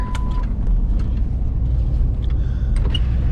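Steady low engine rumble from a truck idling or driving, heard from inside after a trip to a hardware store, loud and continuous with no talk over it.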